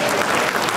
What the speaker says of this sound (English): Now that is what you should be clapping about